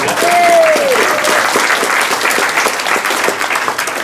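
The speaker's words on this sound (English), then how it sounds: "good round of applause for all of them" Audience applause for a London blues band's drummers fills the room at a steady, loud level, with a brief tonal whistle-like sound early on and a few voices mixed into the clapping.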